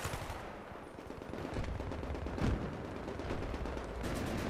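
Gunfire in Battlefield 3 on the Strike at Karkand map: rapid automatic bursts crackle steadily at moderate volume, with one heavier boom midway, and no voices.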